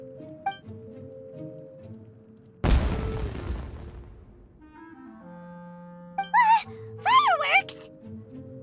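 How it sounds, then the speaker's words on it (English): Fireworks burst in the Genshin Impact video game: a single loud boom with a crackling decay, set against quiet game music, followed by rising whistling tones. "It sounded like fireworks."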